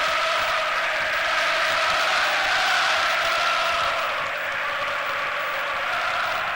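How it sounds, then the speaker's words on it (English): A Manchester United crowd cheering and applauding during a 3-1 home lead over Liverpool on New Year's Day 1989, a loud sustained roar of massed voices and clapping from a big stadium throughout. "And just listen now to that United crowd."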